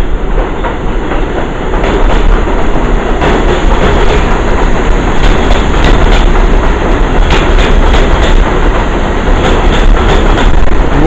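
Subway train at a station platform, a loud, steady roar of rolling wheels with rhythmic clicking and a high metallic whine throughout, close by and with no talk.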